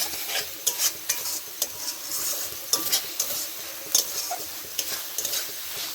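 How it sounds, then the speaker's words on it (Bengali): Red chilli, cumin and coriander powder fry in oil for biryani, a soft continuous sizzle punctuated by frequent close clacks and scrapes of a spoon stirring the pan. "জিরে ধনে গুঁড়ো একসাথে দিয়ে একটু ভালো করে নেড়ে নেবে"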